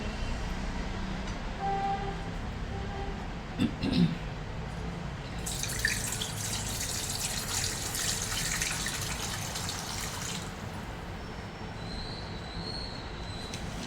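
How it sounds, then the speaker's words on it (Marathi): Water poured into a pot of varan already seasoned with salt and tamarind-jaggery, a broad rushing pour lasting several seconds in the middle, set against a constant low background noise with a few faint clinks before it. "आपल्या आवडीनुसार याच्यात आपण टाकणार आहोत पाणी."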